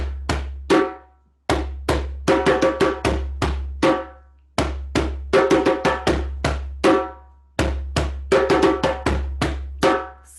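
Rastafarian Nyabingi heartbeat rhythm played on a hand drum, sounding as repeated groups of firm, resonant strikes with brief pauses between phrases, close and alone without talk.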